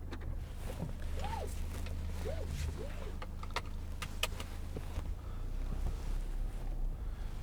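A 2014 Jaguar XF 2.2 diesel saloon cruising on the road, heard from inside the cabin as a steady low engine and road rumble with wind noise and occasional faint creaks, no talking.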